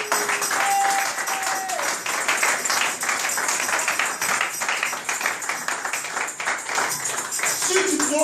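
A church congregation claps in a dense, continuous burst of applause that stays loud and even throughout, with scattered cheers and voices mixed into the crowd noise.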